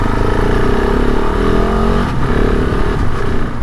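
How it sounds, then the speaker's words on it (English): A 2021 KTM 690 SMC R single-cylinder motorcycle downshifts through a quickshifter under engine braking. The loud, close engine note steps down in pitch in a few blips over a steady rumble. "that downshifting with the Quickshifter with some engine braking, it's actually really smooth"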